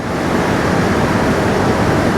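The Shiawassee River pours over a drop on the riverwalk in Owosso, Michigan. It makes a steady, broadband rushing roar that stays loud and unbroken throughout with no voices.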